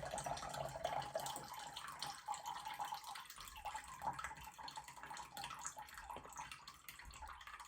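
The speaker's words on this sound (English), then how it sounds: "And then I'm gonna pour out the buttermilk to separate it from the butter." Buttermilk pours steadily out of a daisy butter churn, a continuous close splashing, trickling stream of liquid that runs for several seconds without talk.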